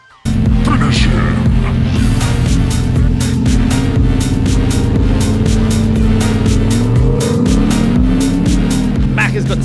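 A Landcruiser and a buggy racing side by side on a dirt track, engines roaring loud and continuous with shifting revs and gear changes throughout, close and dominant.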